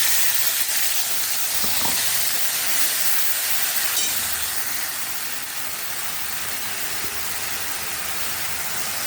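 Ginger and green chili paste hitting hot oil with cloves and spices, giving a steady, loud broadband sizzle and hiss that eases slightly midway and continues without talk.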